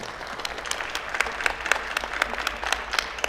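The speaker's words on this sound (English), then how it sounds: "I think we can have a round of applause for that." A small audience at a community Q&A meeting gives a round of applause, with distinct, sparse claps standing out over a thin crowd patter, moderately quiet and fairly close.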